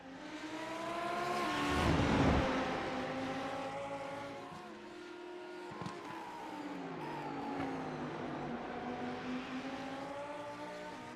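GT3 race cars at Mid-Ohio roar past with high, harmonic engine notes that swell and bend as they accelerate and pass, with one louder pass early on and a steady engine drone continuing after it.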